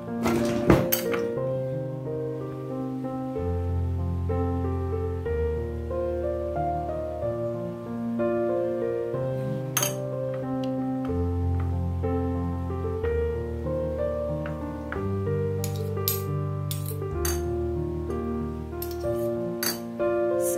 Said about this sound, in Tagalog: Kuha ko ng ating kutsara.